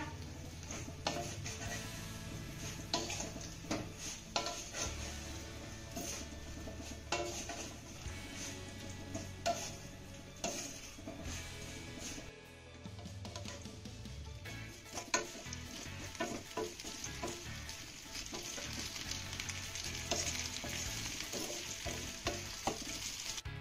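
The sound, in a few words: sorghum flour vadis being stir-fried in a pan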